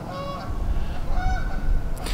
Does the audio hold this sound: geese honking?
yes